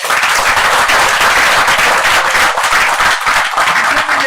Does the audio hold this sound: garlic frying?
no